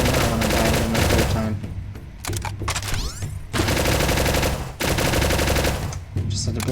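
Rapid automatic gunfire bursts out in blind fire in the game Ancient Warfare 3, loud repeated volleys broken by short pauses.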